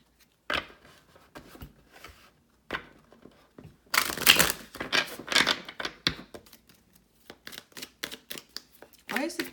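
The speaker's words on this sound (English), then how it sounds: "Let's do a big shuffle." A deck of tarot cards is shuffled by hand in bursts of riffling and slapping, close and fairly quiet, with pauses between the rustling passes.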